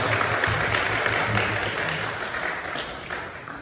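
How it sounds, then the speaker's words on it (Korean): Steady applause from a church congregation at a summer retreat welcoming the chairman of an international medical mission society, a continuous wash of claps that fades slightly toward the end. "저 뒤에 귀한 우리 이사장님이 오셔서 큰 박수로 환영하겠습니다"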